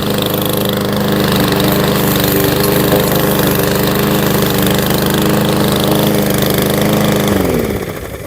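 A Powermore 140cc small engine with a replacement coil runs steadily at close range with a loud, even drone, then winds down and fades near the end.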